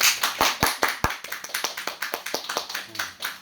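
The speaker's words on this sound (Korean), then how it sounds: "하나님 앞에 영광을 돌리고 박수를 치는" A church congregation clapping during worship, a fast run of crisp claps from a small group, loud at first then settling into a quicker, softer patter with faint voices.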